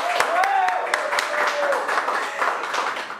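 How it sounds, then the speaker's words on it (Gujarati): An audience applauds to welcome the team of the Gujarati movie Jaysukh Zadpayo, with scattered clapping running steadily at moderate loudness beneath a voice that continues talking. "ખૂબ તાળીઓના ગડગડાટ સાથે સ્વાગત કરો જયસુખ જડપાયોની ટીમનું"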